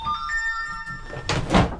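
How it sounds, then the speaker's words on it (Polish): A telephone rings with a steady electronic tone, followed by a couple of dull knocks and thuds nearby. "Znowu telefon."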